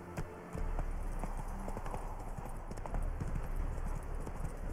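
A horse trots in the Witcher 3 game, its hooves clip-clopping in a steady, rapid rhythm that stays fairly loud and close over a constant background wash.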